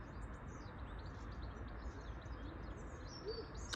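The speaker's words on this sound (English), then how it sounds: "I love hearing the birds." Several birds chirp and tweet at a moderate distance at an allotment, short calls repeating over a constant low outdoor hum.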